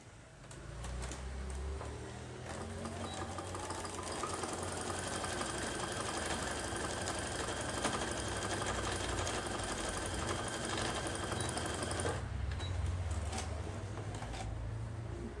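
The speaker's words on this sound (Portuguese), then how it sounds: "Então eu vou passar uma costura aqui com um pé de máquina, emendando tudo isso" A sewing machine stitches the seam of a fabric notebook cover, its even, rapid motor whir and needle clatter running close and steady for about twelve seconds before cutting off, leaving quieter handling noise, with no talk.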